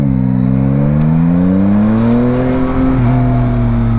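A Yamaha Tracer 900 GT motorcycle accelerates hard, its engine note rising steadily in pitch through the gear, loud and close, with a brief dip near the end before climbing again; no talk.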